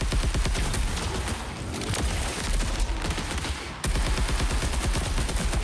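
Rapid video game gunfire rattles in dense, continuous bursts, loud and close, with a brief lull before the shooting resumes.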